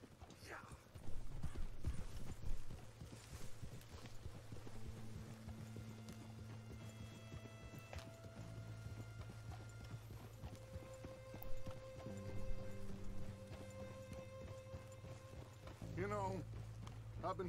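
Horse hooves clip-clop steadily in Red Dead Redemption 2 as a rider travels along, a close rhythmic clatter under speech, a low musical score and a brief whinny.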